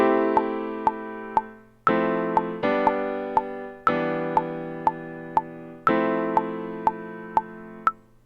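Quantized notes played back in a BandLab project, with evenly timed synth or piano chords and short plucked hits recurring at a steady tempo, clear and alone with no voices.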